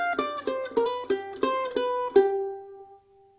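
A quick bluegrass mandolin lick of bright, ringing plucked notes, about eight attacks in a lively rhythm, ending on a sustained note that fades out. No voices.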